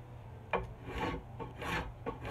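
A hand rasp rounds over the corners of a wooden baseball bat handle, with about four close, rough rasping strokes in a steady rhythm, no talking.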